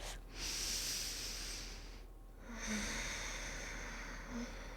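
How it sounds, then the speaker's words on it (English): Slow, deep breaths drawn in and pushed out through the nose during a gentle stretching class, two long airy inhale-exhale cycles that are close and steady, with no talk. "Taking deep inhales through the nose. Big exhales through the nose as well."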